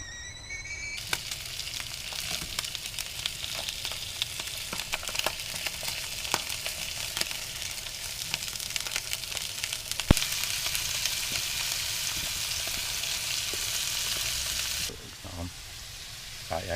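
Food fries in a Ridge Monkey pan inside a camper, giving a loud, steady, crackling sizzle that runs almost without a break before dropping away near the end.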